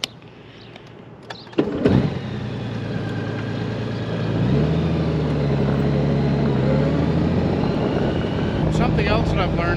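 A 2018 Honda Gold Wing motorcycle runs steadily at cruising speed, a continuous engine drone and wind rush that picks up slightly midway, with a brief bump near the start.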